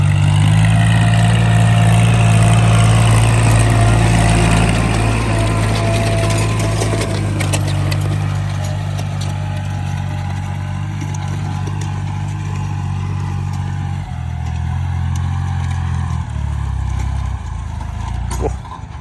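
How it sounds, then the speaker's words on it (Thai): A farm tractor engine runs steadily nearby while plowing, a loud low rumble that dips and shifts in pitch near the end. "มาช่วยผู้ปกครอง ขับรถไถนะครับ"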